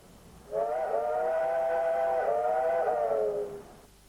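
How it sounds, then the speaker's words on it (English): A steam locomotive sounds a long, steady chime whistle on a mountain railway, one sustained tonal blast of about three seconds, loud and clear with a slight wavering pitch. "to thrill again to steam's distinctive sound"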